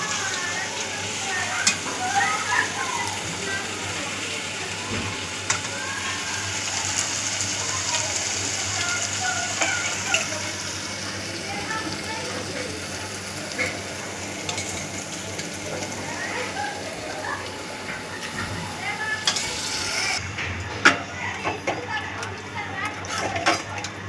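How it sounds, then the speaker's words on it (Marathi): Mutton pieces tipped into oil-released roasted masala for a goat mutton curry, sizzling and frying steadily with occasional stirring and utensil clinks, under spoken narration. "छान असा मसाला भाजून झालेला आहे आता मी यात टाकणार आहे मटण"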